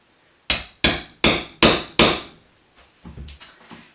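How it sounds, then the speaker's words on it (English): A hammer punches holes through fabric while a Roman shade is installed: five sharp, loud, evenly spaced strikes, then a few softer, quicker taps and a brief scraping handling sound, with no talking. "I'm just going to punch a hole in the fabric."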